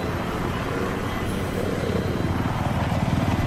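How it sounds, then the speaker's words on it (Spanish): An enemy helicopter approaches in Battlefield 3, its rotor chop and engine drone forming a loud continuous roar that grows slightly stronger and more rhythmically pulsing as it nears. "Viene el helicóptero enemigo."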